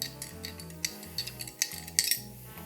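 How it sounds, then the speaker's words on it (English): A bar spoon stirring an Old Fashioned of Old Forester whiskey over ice in a glass, giving a few quick light clinks and ticks close up against a faint musical background, with no talk. "Into the Old Forester. Drop in. Same thing, just give a minor stir."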